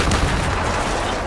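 A hand grenade explodes in an armed Hunger Games round of a video game, a loud, dense burst of blast noise that fills the whole short moment.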